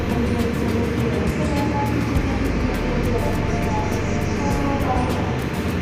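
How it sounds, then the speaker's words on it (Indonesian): A loud, steady rumble of the Jaka Tingkir economy train rolls into Jatibarang station, with a continuous low mechanical drone and faint squeals, and no pauses. "Kereta api Jakatingkir sudah tiba di stasiun Jatibarang"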